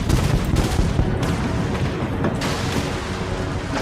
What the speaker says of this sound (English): Launch torpedoes.